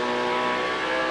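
1991 ATCC touring car at Symmons Plains, engine roaring steadily at high revs from inside the cockpit, a brief continuous burst with no talk.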